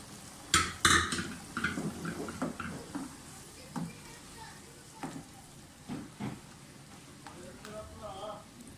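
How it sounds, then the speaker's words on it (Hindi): Mutton and chana dal being fried and stirred in an open pot, soft sizzling under intermittent clatters and scrapes of a spoon, moderately close with someone talking over it. "इसकी बुनाई करना शुरू करें।"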